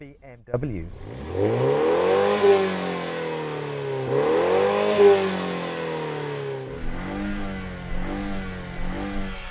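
A BMW engine revs hard twice, pitch climbing and falling each time, then settles into a rougher idle; loud and close.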